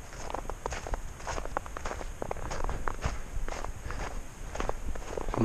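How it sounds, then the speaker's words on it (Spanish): Trail-running footsteps land in a quick, even rhythm on a natural dirt path, each soft crunching step close and distinct against quiet outdoor surroundings with no talking. "Las pisadas."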